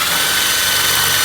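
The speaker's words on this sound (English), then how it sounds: "And we just drill right through the center there." Power drill with a 3/16 bit boring through the center of a 3/16 brake line fitting, a loud close continuous whine with no pause and no talk.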